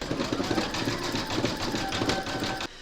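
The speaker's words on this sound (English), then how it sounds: "you're going to stitch round number 10, and that's going to do the satin stitching all the way around the melon itself" An embroidery sewing machine satin stitching around a watermelon coaster design, a fast close mechanical chatter of needle strokes with a steady motor whine that stops abruptly near the end.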